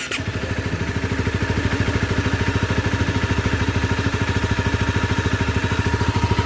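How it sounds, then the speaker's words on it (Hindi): A Honda CBR250R motorcycle engine, freshly rebuilt, idles steadily nearby, its exhaust giving a rapid, even thumping pulse with no talking. "ये है इसका एग्जॉस्ट नोट"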